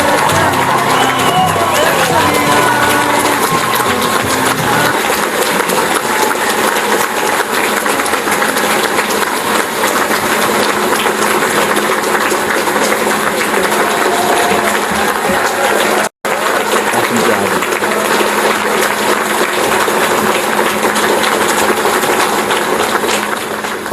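A large crowd at the USS Gabrielle Giffords ship dedication cheers and applauds steadily, a loud, dense roar of voices and clapping that fills the whole stretch with only a momentary break.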